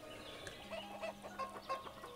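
Chickens cluck in a village farm scene in the video game Ostriv, several soft, short clucks spaced irregularly over a low steady ambient hum, with no talk.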